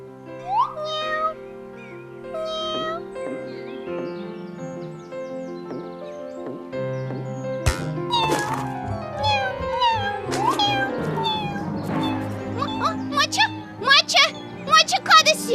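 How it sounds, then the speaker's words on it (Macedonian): A cat meows several times in a children's cartoon, first in short, clear cries and then more rapidly and insistently, heard over light music and a voice. "Маче, каде си?"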